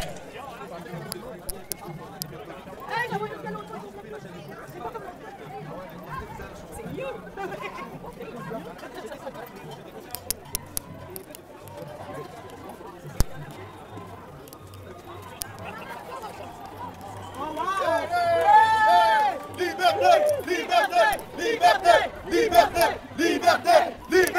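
A big crowd at a Montreal rally, steady chatter and murmuring swelling into loud cheering and shouting in the final seconds, with a nearby voice talking over the noise.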